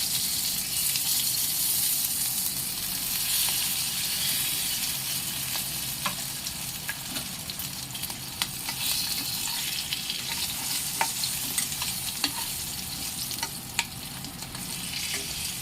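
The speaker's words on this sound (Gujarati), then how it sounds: "હવે આપણે એમાં જે ભરીને મરચાં રાખ્યા હતા એ એડ કરી દઈશું." Stuffed Kathiyawadi green chilies (bharela marcha) fry in a pan with a steady, close hiss of oil, dotted by small pops and stirring clicks, and no voices.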